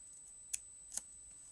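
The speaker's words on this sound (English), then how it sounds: "And now I need to cut this sail off" Scissors cut a paper sail away from a dimensional schooner picture, giving two quick, faint snips about half a second apart in a quiet room, with no talking.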